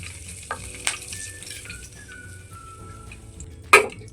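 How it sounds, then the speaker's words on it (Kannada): Curry leaves are dropped into hot oil for a sev mixture and fry with a light, quiet sizzle. A few sharp crackles and pops come in between, then a louder clatter near the end, with no voices. "ಇವಾಗ ಸ್ವಲ್ಪ ಕರ್ಬೇವು ಸೊಪ್ಪು ಹಾಕ್ಕೊಂಡು ಫ್ರೈ ಮಾಡ್ಕೊಳ್ಳೋಣ."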